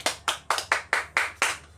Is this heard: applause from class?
yes